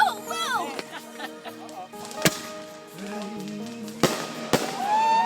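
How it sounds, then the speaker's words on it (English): Family backyard fireworks going off, with several sharp, loud bangs spread through the stretch, whistling and crackling tails between them, and people talking and laughing around them. "We about to do some more fireworks."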